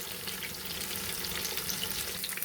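Marinated chicken pakodi deep frying in hot oil, a dense continuous bubbling sizzle, close and moderately quiet, with no voices.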